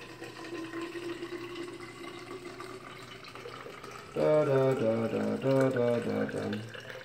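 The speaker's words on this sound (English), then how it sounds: "Fill the rest up with water." Water pours into a drinking container topped with squeezed lemon, a steady filling stream that turns louder and more gurgling near the end.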